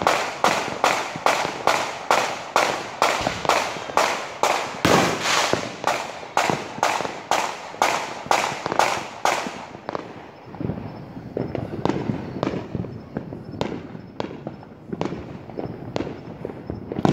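New Year firecrackers and fireworks going off in Tampa, a fast regular string of sharp loud cracks for about ten seconds, then scattered single bangs.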